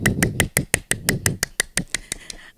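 Hands clapping during a children's online church service, about a dozen crisp, close claps in a quick, fairly steady rhythm that trail off at the end, with no talking.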